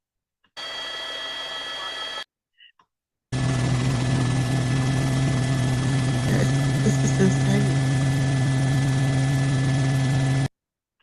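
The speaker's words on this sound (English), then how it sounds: "right now, all you can hear is like the planes above" Aircraft passing overhead, a continuous engine drone sustained for several seconds after a short earlier stretch, with a person speaking briefly over it.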